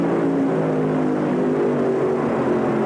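An Oldsmobile drag racing car at the NHRA Indy Nationals produces a loud, continuous engine roar with steady broadband rumble, up close and without voices.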